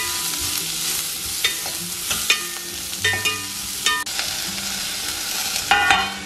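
A spoon scrapes and stirs chopped onion and radish frying in a pan for South Indian radish sambar, close sizzling under irregular metallic scrapes and clinks, no talking.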